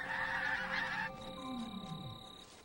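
Several geese honk loudly and close by, their calls layered in a dense burst at first, then a lone honk and a falling, drawn-out call trailing off, with no talk.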